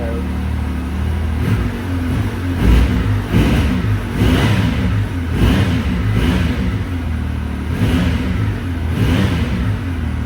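A Yamaha YXZ 1000R XTR side-by-side's engine revs in repeated bursts inside a garage, a loud rumbling drone rising and falling about every second, with brief voices in the background.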